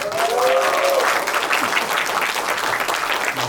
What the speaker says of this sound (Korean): 더 잘하시라고 큰 박수 부탁드립니다